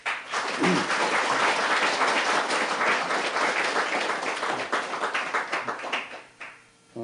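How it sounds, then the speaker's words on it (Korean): Audience applause at a Buddhist lecture, welcoming the monk who is to teach; dense, steady clapping from a hall crowd, sustained for several seconds before tapering off near the end. "먼저 박수로 한번 환영해 주시기 바랍니다."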